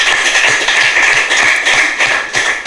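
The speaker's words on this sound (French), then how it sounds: "Je vous prie encore de les applaudir." Steady, dense applause from an audience thanking donors at a polyclinic equipment handover ceremony in Benin, loud and continuous throughout with no pauses.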